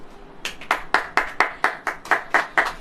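A small group claps hands at a church gathering, about a dozen distinct, sharp claps in an uneven rhythm, close and clear, with no voices.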